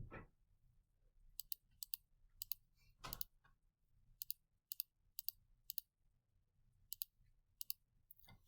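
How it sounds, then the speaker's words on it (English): Calculator keys tapped in short quick bursts of light clicks, several presses in a row with brief pauses between groups, set for radian mode while working a trigonometry problem, with a soft thump or two and no talking. "So when I type this into my calculator,"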